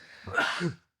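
A single short sneeze, close and fairly loud, a quick intake followed by a burst that cuts off into silence, with no talking over it.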